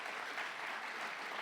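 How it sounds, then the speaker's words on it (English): An audience at a health inequalities session claps steadily, a dense patter of applause that holds even throughout. "everyone give her a round of applause"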